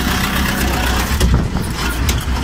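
An Escorts Hydra 14 crane's engine drones steadily and loudly up close as the heavy vehicle drives forward, a rough continuous rumble with slight surges.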